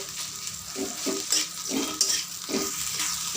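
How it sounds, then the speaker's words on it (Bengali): Capsicum pieces stirred with spice pastes in a pan for a pickle-style dish, giving repeated scraping stir strokes over a steady frying sizzle, close and moderately loud with no talking. "আমি সব মশলার সঙ্গে ক্যাপসিকামগুলো ভালো করে মিশিয়ে নিচ্ছি"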